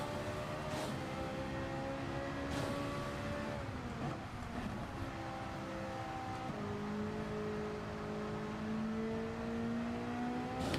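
A racing car's engine drones and shifts pitch with tire and wheel noise layered in during a wet race at the Red Bull Ring in the Gran Turismo video game, held at a steady, fairly loud level without talk.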